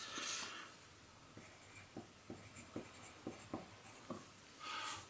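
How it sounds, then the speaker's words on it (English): A pen jotting a note on scrap paper: a run of soft, evenly spaced scratchy strokes, close and quiet, over a steady background hiss with no talk. "So I'm just going to make a note on a piece of scrap paper."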